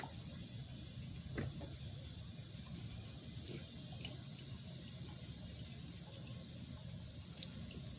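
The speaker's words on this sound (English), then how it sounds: "I like these water fountains they added on." An outdoor drinking water fountain along a riverside walk runs with a soft steady trickle and splash, faint and close, with light background ambience and occasional small clicks.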